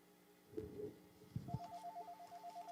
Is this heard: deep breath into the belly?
no